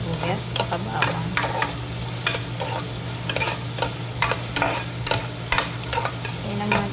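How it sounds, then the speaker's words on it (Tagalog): Onion and garlic sauté in butter in a pan for a creamy chicken dish, a steady close sizzle broken by repeated scraping stirs of a spoon against the pan. "pagka lagay natin ng butter, lagyan po natin ng sibuyas at bawang"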